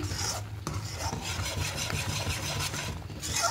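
A spoon stirring thickening ripe mango cream in a pan on a gas stove gives a steady scraping and rubbing sound with a faint sizzle, close and continuous.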